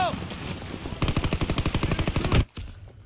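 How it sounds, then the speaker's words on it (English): Sustained machine-gun suppressive fire from the video game Call of Duty: WW2, a loud rapid rhythmic burst of about a dozen evenly spaced shots that stops abruptly. "Smoke and suppressive fire now!"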